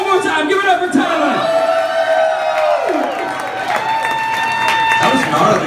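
Live audience at a rock gig with Billy Likes Soda, applauding and cheering for a performer named Tyler: a loud, dense roar of crowd noise that stays steady throughout, with a sustained guitar tone ringing over it.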